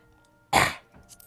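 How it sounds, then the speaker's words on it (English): A single harsh cough bursts out close and loud after a brief quiet stretch, then trails off into a softer breathy throat sound. "sorry I keep coughing."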